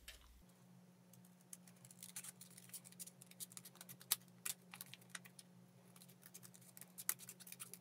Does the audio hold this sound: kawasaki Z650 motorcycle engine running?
no